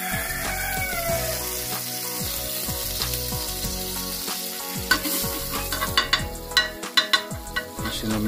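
Butter sizzling loudly in a frying pan as it melts for a palolo dish, with a steady frying hiss and scraping stirs that turn into sharper, repeated clinks toward the end.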